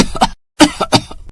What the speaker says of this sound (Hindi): जिससे अम्मा को खांसी शुरू हो गई।